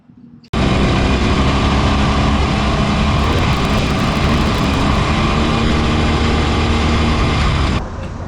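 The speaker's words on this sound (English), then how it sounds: "So I'm gonna hop on the bike and I'm gonna head back west." A Harley-Davidson Sportster 1200 motorcycle engine starts a ride, cutting in abruptly with a loud, steady, close roar that holds for about seven seconds before easing off slightly, with no talking.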